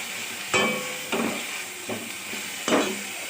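Water poured into a hot pan of masala egg Maggi noodles, several sharp sizzling bursts flaring up and fading against a steady background hiss, close by with no talking.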